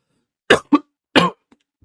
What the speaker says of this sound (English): Anytime it cuts out, by the way, I'm like coughing and dying.